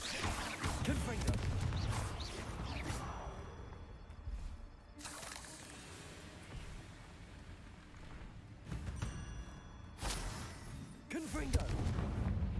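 Confringo spell explosions go off repeatedly in the video game Hogwarts Legacy as sharp, loud bursts with crashing debris at irregular intervals over a low battle rumble. Voices shout and talk throughout.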